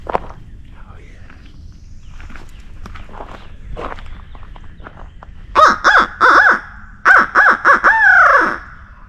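Crows or similar birds at a roost during a Kentucky hunt, with a series of loud, harsh caws in two bursts near the end, preceded by footsteps and rustling in the brush.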